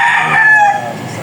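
A rooster crows once on a farm, loud and close, its call trailing off.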